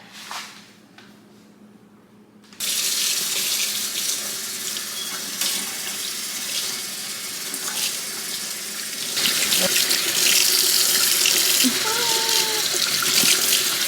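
Water running from a tap while rinsing conditioner out of locs, first a quieter trickle, then a strong steady gush that grows louder and splashier partway through, continuous and close with no talk.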